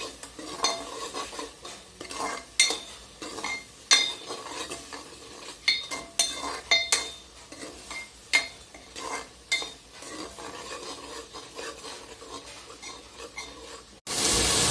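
Everest masala spices frying in a pan with repeated stirring: a spoon scrapes and clinks against the metal in uneven strokes over a faint sizzle, close by, ending in a brief burst of louder hiss.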